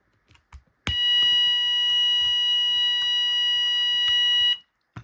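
A fire alarm sounds during a manual call point test on a new system, a loud steady electronic tone held for about four seconds after a few soft clicks and handling noises, then cutting off abruptly.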